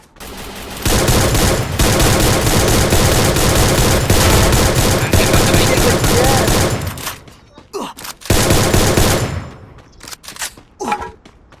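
Rapid Free Fire gunfire blasts continuously for several seconds, loud and close, then breaks into a few shorter bursts with pauses between.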